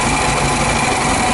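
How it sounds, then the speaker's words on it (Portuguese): A VW Beetle (Fusca) 1973 engine running with its pulley rubbing against a hammered metal plate, a loud, constant, close grinding whir with a harsh scraping texture and no pauses. "Esse barulho esquisito é porque a polia, ela infelizmente, ela tá pegando naquela chapinha que eu martelei."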